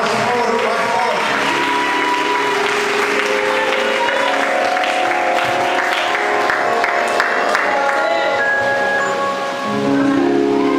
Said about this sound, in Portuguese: Você pode aplaudir o nome do Senhor Jesus.